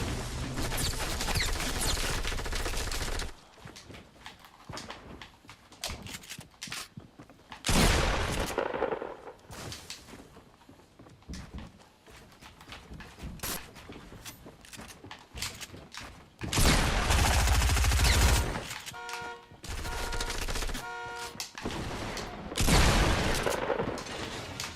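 Fortnite battle gunfire with the new silenced SCAR, repeated bursts of muffled shots and loud impacts in clustered volleys separated by quieter gaps, game sounds alone without speech.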